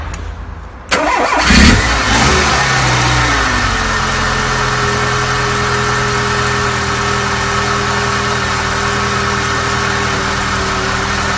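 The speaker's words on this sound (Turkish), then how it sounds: "Dilerseniz beraber bir marşına basalım aracın." A Tofaş car engine cranks briefly and catches, then settles into a steady, loud idle that runs alone close by for several seconds, fitted with iridium spark plugs.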